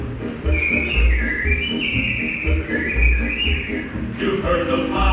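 Animatronic birds in Walt Disney's Enchanted Tiki Room at Magic Kingdom whistle and chirp in a rising, warbling run over steady musical accompaniment, continuous and fairly loud throughout.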